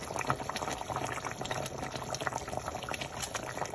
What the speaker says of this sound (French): Donc ma sauce est en train de bouillir.